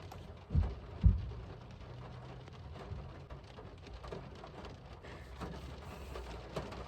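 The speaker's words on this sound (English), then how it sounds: "All right, it's raining a lot." Heavy rain pours steadily outdoors at a concert, a dense continuous hiss of drops beating on surfaces, with two brief low thumps near the start and no voices.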